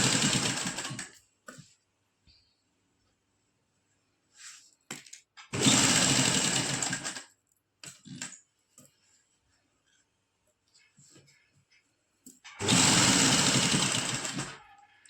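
Sewing machine stitching lace along the edges of a simple suit, running in three loud bursts separated by quiet pauses with small handling clicks between.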